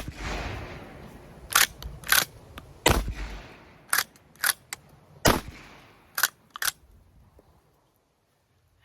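Winchester lever action shotgun firing at an outdoor range, about a dozen sharp separate reports spaced irregularly over several seconds, each a loud crack with a short decay, before falling silent.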